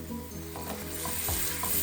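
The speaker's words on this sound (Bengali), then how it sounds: "মশলাটা একটু কষাবো, এরপরে এই পেঁয়াজ কলিটা দিয়ে দেব।" Spice paste sizzles and sautés in a pan, a steady close frying hiss with light scraping stirs throughout and no talk.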